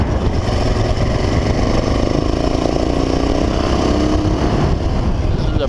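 A hot Honda XL 600 R motorcycle runs steadily on a road beside a river, a loud continuous engine drone with slight changes in pitch, with no clear talk over it.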